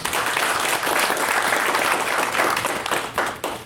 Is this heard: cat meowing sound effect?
no